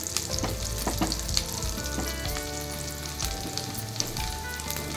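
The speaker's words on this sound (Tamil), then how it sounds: "இந்த பட்டர்லேயே இந்த பூண்டு கொஞ்சம் நல்லா செவந்து வரட்டும்" Chopped garlic frying in melted butter for a Japan-style chicken snack, a dense steady sizzle with occasional spatula scrapes and clinks, close and fairly loud, no voices.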